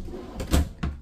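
A soft-closing drawer in the kitchen of a Montana 3931FB fifth wheel RV slides shut, giving two short muffled thuds close by, the second softer than the first, with no talking.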